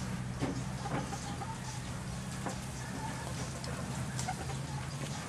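A blind chicken clucks on and off amid a busy, noisy background. Short clucks come at irregular intervals, fairly close but not loud.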